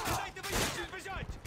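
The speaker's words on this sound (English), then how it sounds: "let me shoot this dude" Gunfire in the Modern Warfare 3 video game plays as a dense, rapid volley of shots, with a voice speaking over it.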